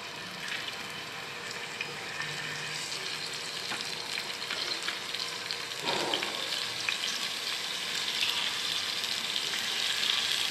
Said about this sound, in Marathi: तवा गरम आहे, त्याच्यावर मी तेल थोडंसं ओतून घेणार आहे आणि त्याच्यावर कारली पसरायची मस्त